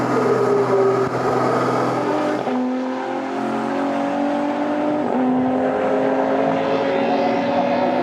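GT4 race cars, BMW and Corvette among them, roar downhill at the Nurburgring, their engines droning loudly and steadily with rising and falling pitch as they pass, one car shifting gear partway through.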